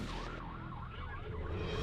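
A wailing siren rises and falls in a fast, warbling cycle, fairly faint and set within a dense, rumbling wash of noise.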